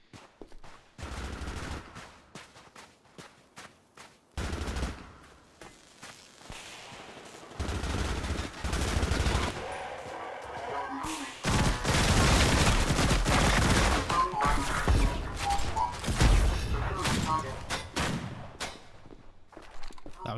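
Rapid, heavy concussion-rifle blasts in the ADACA video game, fired in dense bursts and sustained volleys, loud and close, with brief pauses between strings of shots.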